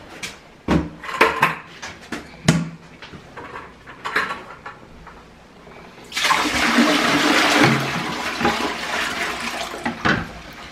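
A household toilet flushes in a sudden, loud rush of water that lasts several seconds, after a series of sharp clanks and knocks of metal and tools.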